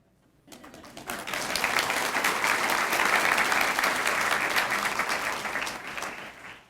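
An audience at a school district's state-of-the-district event bursts into applause, the clapping swelling quickly, holding loud and dense for several seconds, then tapering off.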